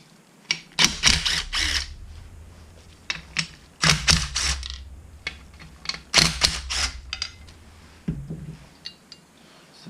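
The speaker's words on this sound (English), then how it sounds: "We'll take off these bolts, get rid of this license plate bracket." Removing 10mm bolts from the license plate bracket of a 2018 Indian Scout Bobber gives close, sharp bursts of ratcheting clicks in several quick runs separated by short pauses.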